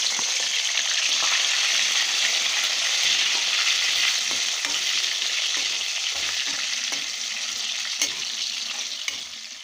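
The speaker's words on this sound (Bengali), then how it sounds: "এগুলো এখন আমি একটু সুন্দর করে লাল লাল করে ভেজে নিচ্ছি" Onion paste frying in a pan for a country chicken curry, a steady close sizzle and crackle with occasional stirring scrapes, continuous throughout and no talking.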